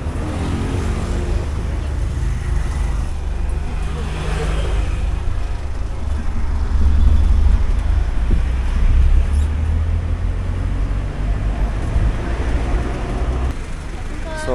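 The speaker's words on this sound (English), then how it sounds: "It's name Tuk Tuk. This is Tuk Tuk." Riding in a tuk tuk through Pattaya traffic, a steady loud engine drone and road rumble carry on throughout, swelling slightly midway, with voices talking at times.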